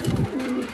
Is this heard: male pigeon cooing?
yes